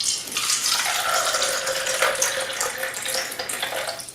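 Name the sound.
tap water running into a cup of tea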